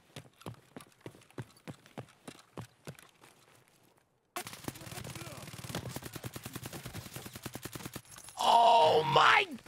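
Gunfire in the video game Escape from Tarkov comes as a rapid string of sharp, regular shots, first sparse and quieter, then a denser, louder burst, followed by loud shouting voices.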